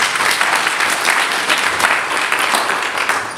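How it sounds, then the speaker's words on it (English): A church congregation claps in a steady, loud round of applause that fills the whole moment without any talking. "Give yourself a round of applause."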